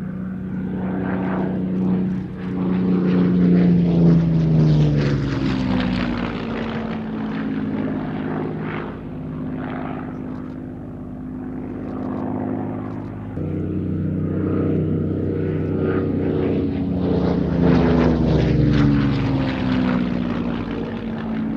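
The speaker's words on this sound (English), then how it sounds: "The aircraft that is being represented was actually used by Johnny Kent to shoot down both a BF-110 and a" A Battle of Britain propeller fighter aircraft flying at the Midlands Air Festival 2023, its loud, droning piston engine swelling as it passes close, fading briefly, then roaring again on a second pass, with no talk.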